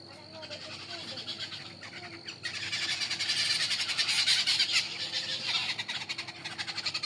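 Birds in a botanical garden on a morning walk give rapid, repeated squawking and croaking calls at moderate distance, growing busier midway, with people talking faintly at times.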